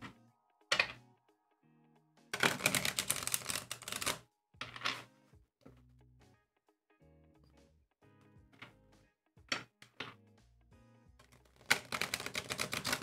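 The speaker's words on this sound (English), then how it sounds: "Let me do a third shuffle for this little tarot deck." Several bursts of riffling as a small tarot deck is shuffled, separated by quiet pauses and soft taps, fairly close and clear.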